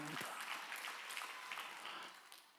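A church congregation breaks into applause during a Sunday sermon: dense, continuous clapping from a large crowd that fills the space and tapers off slightly at the end.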